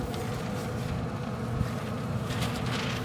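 Gusty wind buffets the microphone outdoors beside a Pit Boss smoker cooking Texas-style brisket, a steady low rumble with swelling gusts lasting throughout, no voices.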